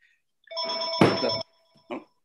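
A telephone rings during an online lecture, one long electronic trill followed by a short second burst after a pause, clear and close with no talk over it.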